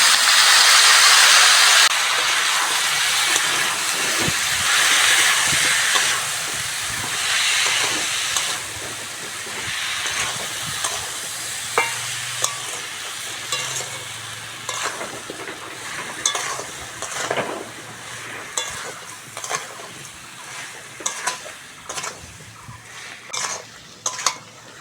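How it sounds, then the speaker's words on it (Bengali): Sugar sprinkled with a little water is stirred in a hot pan for a rustic raw mango pickle, a loud hissing burst at first that settles into a softer sizzle under repeated scraping and clacking strokes of a spoon. "এরকম ভাবে নাড়তে নাড়তে বন্ধুরা চিনিটা গলে যাবে।"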